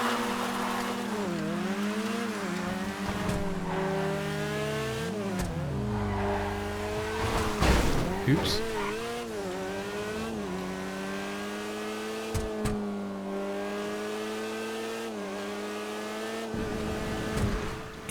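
A Maxwell Vagrant, a four-wheeled buggy in GTA, drives with a loud, steady engine drone whose revs rise and fall through gear changes, plus a few sharp clunks and a brief skid midway.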